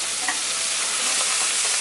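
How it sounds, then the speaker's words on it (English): Chopped parsley sizzles in a hot pan with garlic and thyme for a beef sofrito, a steady bright close frying hiss with faint stirring scrapes and no talk. "You can really hear the parsley oils coming out"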